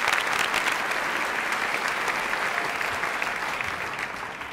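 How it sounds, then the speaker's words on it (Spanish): An audience breaks into sustained, dense clapping for a performer returning to the stage, loud and steady throughout before tapering slightly at the end. "Un aplauso para Timothy Spencer."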